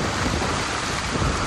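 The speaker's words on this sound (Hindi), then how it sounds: "बारिश की तेज आवाज पर्पल फ्रॉग्स के कानों तक पहुंच गई है।" Heavy monsoon rain in the Western Ghats, a dense, steady roar of downpour with a low rumble that may be thunder, loud and continuous with no voices.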